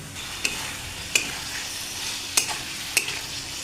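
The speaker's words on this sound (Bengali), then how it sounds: "এবার এটা 2-3 মিনিট একটু কষাবো" Soybeans and boiled potatoes sizzle in hot spiced oil, a steady frying hiss broken by four sharp clinks of a spoon stirring against the pan.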